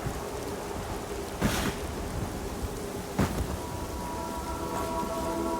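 Steady rain in the video game Lords of the Fallen, a continuous broadband hiss throughout with two brief louder bursts like distant thunder cracks.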